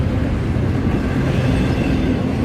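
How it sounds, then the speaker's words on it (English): A freight train rolls past on railroad tracks, a loud, steady rumble of wagons with faint clickety-clack from the wheels, close and continuous with no talk. "We're getting a lot of good trains today."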